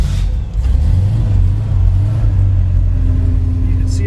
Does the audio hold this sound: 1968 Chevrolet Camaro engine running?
yes